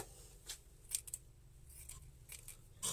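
Sharp scissors cutting pink florist ribbon for a small hand-tied baby girl bouquet, a few quiet, close snips spaced apart over a soft background.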